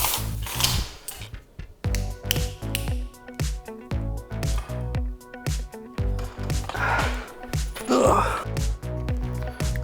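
Clamps are tightened while a piece is lined up and stretched taut, giving close, rhythmic ratcheting clicks in a steady run of short bursts with a few softer handling noises.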